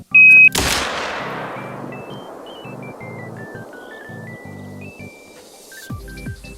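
A rifle fires in theHunter: Call of the Wild during a staged shooting-competition sequence: one loud, close shot with a long ringing decay, followed by a second shot near the end, while electronic beeping tones play in between.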